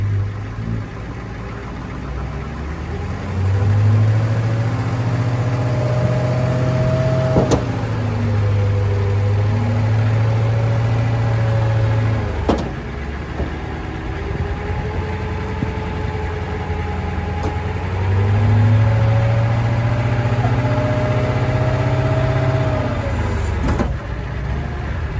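A roll-off truck's engine runs steadily and loudly throughout while it lifts a dumpster can, with the hydraulic load rising and falling in two long surges of deeper engine strain.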